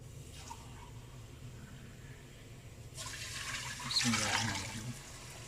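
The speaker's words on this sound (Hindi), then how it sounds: "इसमें भी ऐड करेंगे पानी 2 कप" Water is poured into a pressure cooker for a potato and meat curry, a faint trickle that swells into a louder splashing pour near the end.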